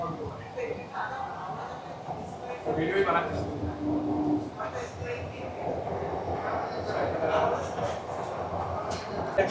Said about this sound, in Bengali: ট্রেন কিন্তু ছেড়ে দিল একদম শিয়ালদা থেকে টুয়ার্ডস হাওড়া ময়দানের উদ্দেশ্যে।